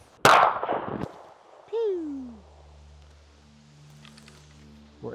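A single loud, sharp gunshot from a Smith & Wesson 990L .40 caliber pistol cracks close by, then a metallic ring and a voice follow over a steady hum.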